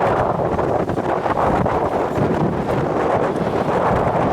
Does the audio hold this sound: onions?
no